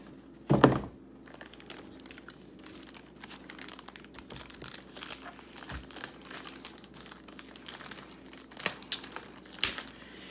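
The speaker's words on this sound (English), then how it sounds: "So now it's time for me to take this out of the plastic." Crinkling and rustling of plastic wrapping pulled off a Dell G7 gaming laptop with an Intel Core i7, close and fairly quiet, with scattered crackles, a few sharp handling thumps and sporadic louder crinkles, without talk.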